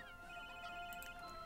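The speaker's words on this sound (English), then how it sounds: "Silence your goddamn phone." A phone rings in the video game The Sims 3, a faint tonal electronic ring heard briefly on its own.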